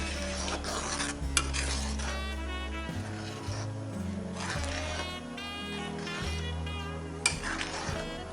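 Pitha is stirred into thick jaggery milk in a pot, with a continuous scraping and sloshing of the spoon against the metal, steady and close, over a low, uneven background hum.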